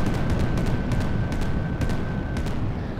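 Bombs dropped from an aircraft burst around an aircraft carrier in the VRChat virtual reality game, heard as a series of dull booms and crackling blasts over a constant low engine drone with a faint steady whine.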